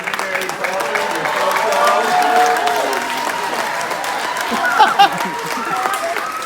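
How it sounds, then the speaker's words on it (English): An audience applauds steadily at a talk about Disney entertainers, a sustained wash of clapping mixed with crowd murmur at moderate loudness. "You realize you're applauding death, right?"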